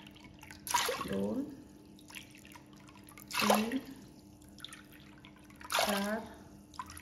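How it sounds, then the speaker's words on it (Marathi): Water poured cup by cup into washed rice and toor dal in a pot, in soft splashing bursts between spoken counting from a nearby voice. "त्याच वाटीने 6 वाटी पाणी घालायचं आहे"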